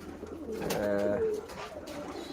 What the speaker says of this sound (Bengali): পাঁচ ছয় পেয়ার কবুতর ব্রিডিংয়ে করাইতেছি